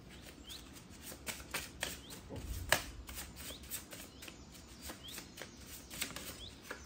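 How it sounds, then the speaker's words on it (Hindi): Playing cards shuffled by hand in a quiet room, soft rapid riffling and flicks, then a single card dropping off a table, faint and close with no talk. "So one more card popped out and it fell off the table."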